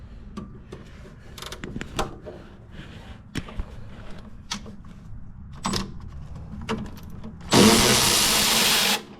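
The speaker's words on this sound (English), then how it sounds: "use your battery ratchet to get that bolt completely out" Battery-powered ratchet spinning a lower control arm bolt out on a Honda Accord, a loud continuous whir near the end after scattered clanks and handling noises of the suspension work.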